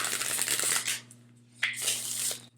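Oracle cards shuffled overhand by hand: quick papery riffling bursts in two close spells separated by a short pause.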